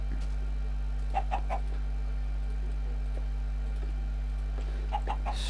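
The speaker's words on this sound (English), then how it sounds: "Go away, chicken." Chicken clucking in the Minecraft video game: two short bursts of three quick clucks each, a few seconds apart, over a steady low electrical hum.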